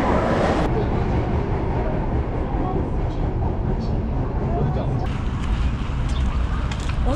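Osaka subway train in motion, heard from inside a car as a steady, loud rumble and rolling rail noise throughout, with brief shifts in the roar partway through.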